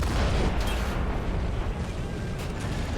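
Heavy tank cannon fire and booming blasts in Men of War: Assault Squad 2, a World War II battle at a bridge with an ISU-152, a continuous loud rumbling barrage.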